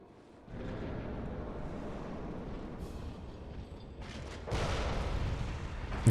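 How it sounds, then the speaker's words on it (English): A cannon fires in the Bloodborne video game, booming twice: a deep blast rolls into a sustained rumble, then a second, louder burst follows a few seconds later. "Cannon really doesn't do shit."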